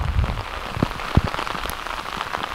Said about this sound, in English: It is raining really good.